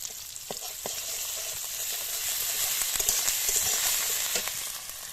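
Ginger and onions fry in a pan for a lauki and prawn dish, producing a continuous close sizzle with scattered pops and scraping clicks throughout.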